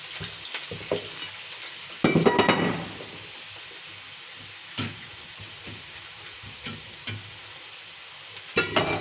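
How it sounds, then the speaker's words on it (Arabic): Cubed potatoes fry in plenty of oil for moussaka, a steady soft sizzle underneath occasional louder scraping and stirring clatters, close by and with no talk. "كده ننزلها كده في الزيت على طول"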